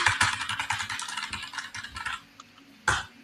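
Fingers type quickly on a computer keyboard, a close run of clicky keystrokes that slows into a few scattered taps and then a final sharp key press, with no talking.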